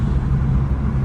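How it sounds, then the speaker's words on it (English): A Ford ST170 car engine running loudly with its timing out, a deep steady droning rumble heard close up, alone and without talk. "Car is loud."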